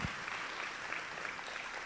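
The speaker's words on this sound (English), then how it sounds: "Can we give ourselves a round of applause" Audience at a DC schools chancellor search engagement forum claps for themselves, a soft, even patter of many hands lasting about two seconds.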